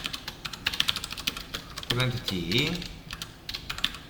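Keys clatter in quick irregular bursts as code is typed on a computer keyboard, fairly close, with a brief stretch of speech in the middle.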